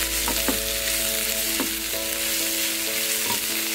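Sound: green chili, ginger and garlic sautéing in a pan

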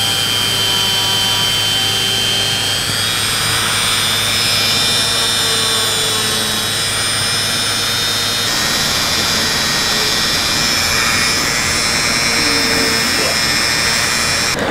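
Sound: Dremel rotary tool smoothing the edge of a leather belt piece

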